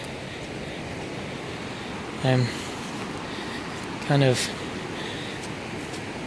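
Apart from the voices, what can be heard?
rushing floodwater of the Big Thompson River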